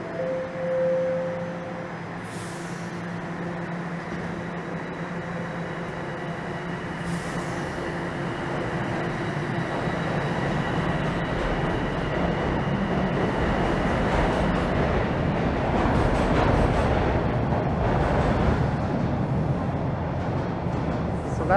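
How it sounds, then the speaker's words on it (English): A southbound subway train idles and rumbles at Wilson Station in Toronto, a loud, steady mechanical drone with a short high tone at the start, building slightly toward the end. "this is a southbound train that's held up for some reason"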